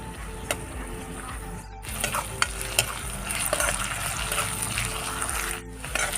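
Onions fry in oil left from frying eggs, a steady loud sizzle with scraping and clinking as a utensil stirs them in the pan while an egg curry is cooked, with no talk.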